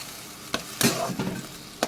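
Spice masala for a cashew chicken curry sizzles in a pan as a spoon stirs and scrapes it in a few distinct strokes over steady frying crackle.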